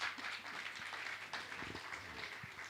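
Audience applause at a Jain religious gathering at Gunayatan, Shikharji in Jharkhand, honouring a donor family; faint, steady clapping from a distance that fills the whole moment.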